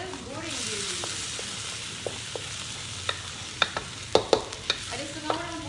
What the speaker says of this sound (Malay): So lebih elok kita goreng dia dulu.